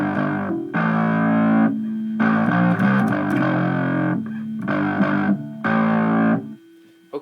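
Distorted bass guitar with an effects-unit tone plays a riff at full tempo, a continuous loud run of punchy phrases with no talking.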